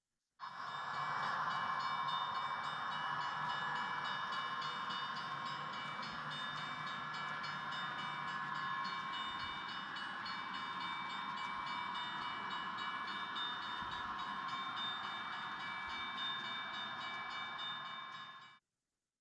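Model Santa Fe trains run steadily around a layout, producing a constant, moderately quiet mechanical hum and rolling whir that holds evenly for the whole stretch with no talk.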